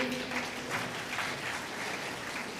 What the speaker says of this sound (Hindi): तालियां अभी देवताओं की ओर से अधिक है, देवियां इतना नहीं बजा रही है